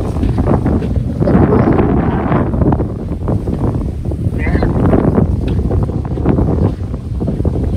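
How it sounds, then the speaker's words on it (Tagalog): Strong wind at a beach in Aqaba buffets the microphone in a steady, roaring rush, with water and boat noise beneath and voices faintly mixed in. "Sobrang mahangin ba?"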